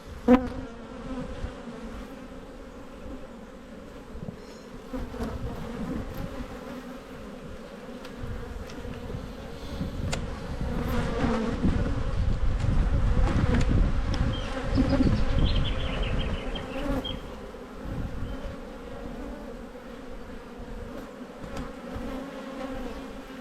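Honey bees buzz steadily at an open beehive during a spring inspection, a dense, continuous drone close by that swells louder midway, with no talking.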